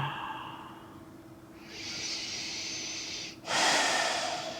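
Slow, audible breaths during a seated yoga leg stretch: a soft exhale, then a long airy inhale and a stronger breath out, close and steady with no talking.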